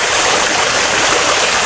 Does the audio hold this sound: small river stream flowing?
yes